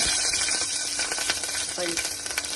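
Asafoetida, mustard seeds and chillies sizzle in hot oil in a pressure cooker, a close, crackling hiss with sharp pops and stirring clatter, briefly touched by a faint voice.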